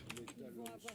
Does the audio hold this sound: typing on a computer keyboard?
yes